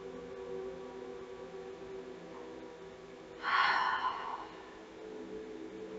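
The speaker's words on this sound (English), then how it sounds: "Take one more big inhale and exhale." A single deep breath taken during a yoga session swells up as one soft, airy rush in the middle, alone against a low, steady room hum.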